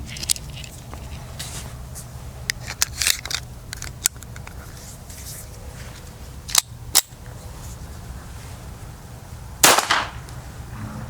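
Gunfire from a used gun: several sharp, isolated reports spaced irregularly over a faint background, with one louder, longer burst near the end.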